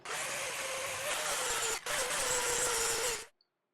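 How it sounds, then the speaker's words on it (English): A loud, continuous high-pitched grinding whir from a sanding flap wheel on metal, clearancing a part for a 2GR-FE engine in an MR2 Spyder, briefly dipping midway, then stopping abruptly. "Just going to use a sanding flap wheel."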